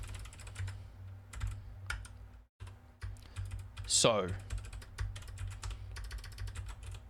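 Rapid, uneven clatter of a computer keyboard being typed on up close, with bursts of keystrokes and a brief pause, while someone speaks briefly over it.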